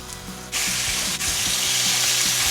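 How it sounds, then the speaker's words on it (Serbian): Pork schnitzels dropped into well-heated oil: a sudden loud hiss of frying bursts in, then settles into a continuous close sizzle, with faint low clinks beneath. "I sada ćemo na ovo dobro zagrijano ulje da pržimo šnicle sa jedne i sa druge strane"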